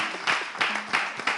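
Applause from a small group, with a few hands clapping in a rhythmic pattern of repeated bursts that is fairly faint and close.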